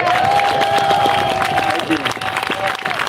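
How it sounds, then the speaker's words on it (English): A crowd at a May Day rally marking the Bay View massacre applauds and cheers for the speakers, a continuous wash of clapping and shouts, fairly near, with a voice carrying over it. "let's hear a round of applause for our speakers one more time"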